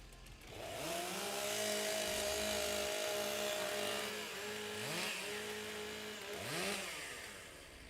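Chainsaws are revved up to warm before a timbersports competition, several engines howling loud and close, rising and falling in pitch with repeated throttle blips near the end.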